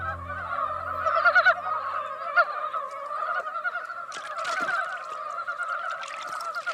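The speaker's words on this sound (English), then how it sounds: "Creatures like these Dabowski frogs play the tune of all life." Dybowski's frogs call in a spring forest, a dense chorus of honking, croaking notes that overlap continuously at close range, with a low rumble at the start.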